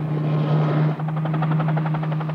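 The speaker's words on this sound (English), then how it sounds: "Calypso's helicopter is dispatched." The research ship Calypso's helicopter flies close by, its loud rotor chop and steady engine hum pulsing rhythmically and continuously.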